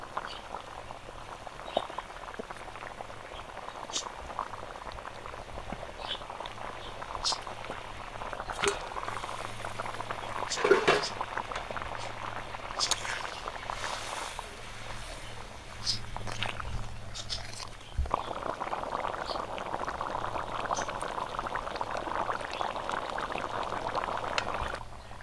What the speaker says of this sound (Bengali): ঝোলটা ফুটে উঠেছে, ভেজে রাখা মাছগুলো দিয়ে দেবো।